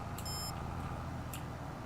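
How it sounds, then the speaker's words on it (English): A monitor device shutting off gives a short, bright electronic beep near the start, followed by a fainter second blip about a second later, both over a steady low hum. "if you heard that beep, that's the monitor device shutting off"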